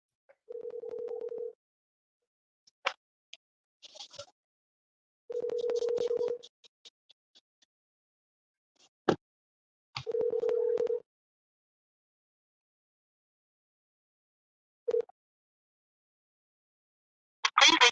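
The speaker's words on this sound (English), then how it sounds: "Can you hear the phone call calling?" A telephone call being placed: a steady dial tone sounds in three separate bursts of about a second each, with brief clicks and a short beep between them and a louder burst at the very end.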